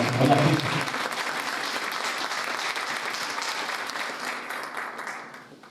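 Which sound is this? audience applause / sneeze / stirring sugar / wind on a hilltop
audience applause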